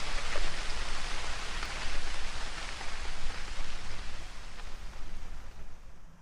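Steady rain falls in a dense, even hiss on the Inverpolly Estate in the Scottish Highlands, pattering on surfaces close by with no voices.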